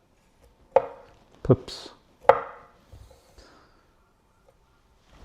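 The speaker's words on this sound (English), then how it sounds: "let's start with a grape. It's got that tough skin, weight of the knife easily through" A kitchen knife slices through a tough-skinned grape on a board, giving three crisp, close cuts in an uneven rhythm followed by a few softer taps, with a brief word spoken.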